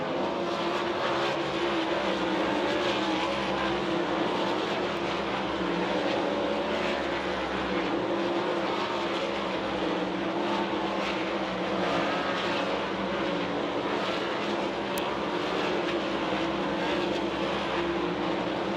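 Sprint race cars running dirt hot laps at I-70 Speedway, a steady, loud, continuous engine roar that stays dense and unbroken throughout, with no talking.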